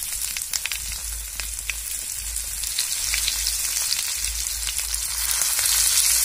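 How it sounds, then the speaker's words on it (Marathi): Okra sliced into hot oil with cumin seeds for a Maharashtrian bhendi masala, sizzling in a continuous crackling hiss that grows slightly louder and denser over several seconds. "आता भेंडी टाकून घ्यायची."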